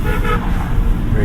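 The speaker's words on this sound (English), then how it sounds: "Let's do a quick horn test right here." A car horn sounds in a Hyundai IONIQ 6 electric car, a loud sustained toot lasting just over a second, heard from inside the car, with a voice talking over it.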